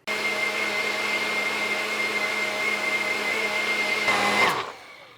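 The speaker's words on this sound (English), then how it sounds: "let me throw this on my blender here, blend this up into a nice powder until we don't see any more bits of oat remaining" A NutriBullet blender grinding dry oats into powder, a loud, steady motor whine running for several seconds before winding down abruptly at the end, with no talking.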